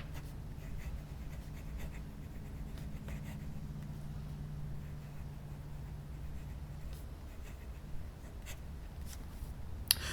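Quiet, close scratching of a fountain pen's cursive italic nib moving across paper in short strokes over a low background hum.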